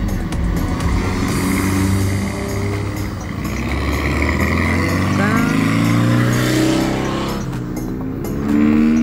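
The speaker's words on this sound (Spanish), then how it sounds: "son simples carros viejos que ya lo utilizan para carrera" Old cars racing in a street rally in Huancayo, with engines revving and roaring past close by while people talk and shout in the background.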